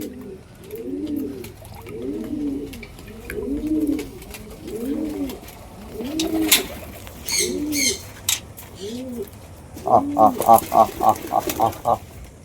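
Several nearby pigeons coo in a steady series of low, rolling calls, followed by a quicker run of higher repeated calls near the end.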